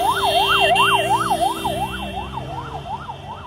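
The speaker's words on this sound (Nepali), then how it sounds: "एम्बुलेन्स यहाँनिर गइरहेको छ" An ambulance siren wails in a fast, regular rising-and-falling cycle as the vehicle passes through a street protest, loud and near, with engine rumble beneath and no voices over it.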